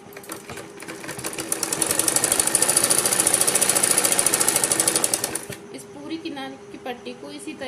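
Electric sewing machine running a fast, steady stitch on the fabric of a baby's frill top, loud and close, speeding up and holding for several seconds before stopping, with a voice speaking afterward.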